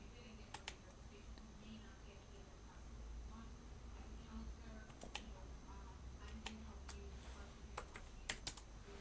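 Quiet, scattered clicks of numbers being typed on a computer keyboard while designing a slingshot in CAD software, with soft speech in the background.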